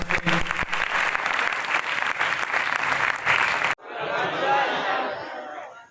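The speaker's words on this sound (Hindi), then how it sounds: "एक बार फिर से तालियां।" A school audience applauds a middle-school student speaker at an impromptu speech competition, loud sustained clapping with crowd noise that cuts off abruptly, followed by a softer second burst of applause.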